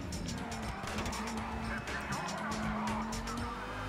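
An armored car stacked on top of a normal car is driven hard in GTA 5, with a loud, steady engine drone and screeching tire skids running through the whole stretch.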